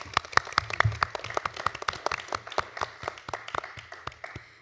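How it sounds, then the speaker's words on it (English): An audience claps at a talk event at the Berlinische Galerie, a moderate round of applause with sharp claps that thins out steadily over a few seconds. "Give her applause."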